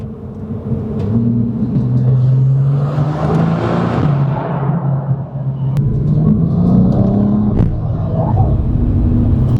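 Porsche 911 engine, a 997.2 model, accelerating under throttle with rising revs that break off at gear shifts, then climb again, loud and close, with a deep rumble throughout.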